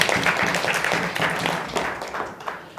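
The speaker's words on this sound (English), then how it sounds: "Give them a round of applause." An audience at the EAPN 2022 members summit gives a round of applause, a dense patter of many hands clapping at moderate volume that tapers off over a few seconds.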